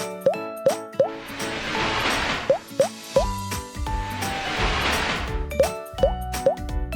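Cartoonish flood water sound effect, a string of bright, bubbly plops and drips over two surging washes of splashing water, loud and close, with no voices.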